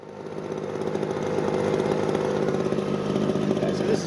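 A Ryobi leaf blower idles close by, its small engine holding a steady buzzing drone that swells slightly in the first second and then stays even and loud.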